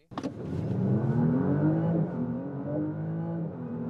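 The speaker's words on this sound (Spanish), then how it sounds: "Vamos a intentarlo de nuevo, pisando a fondo el acelerador como antes." A 2026 Audi RS5 Avant hybrid with all-wheel drive launches at full throttle, its engine note climbing steadily and loud close up after a sharp start, with a brief shift dip partway through.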